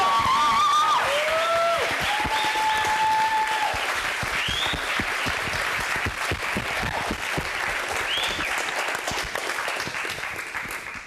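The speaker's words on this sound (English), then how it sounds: "Can we get just one more round of applause for Scott Sherman?" Lecture-hall audience applauding a guest speaker at a university sustainability class, steady dense clapping throughout, with a few whistles and cheers rising over it early on before it slowly thins.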